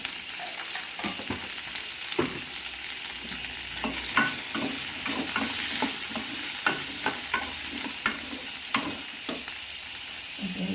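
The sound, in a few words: sautéing tomatoes in a pan for chutney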